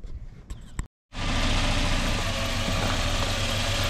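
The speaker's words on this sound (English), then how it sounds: "Pretty smooth running red block, I would say." Volvo red block engine from a 1990s station wagon running after a short silence, a loud, steady, smooth idle with an even low rumble and mechanical hum close by, no talking over it.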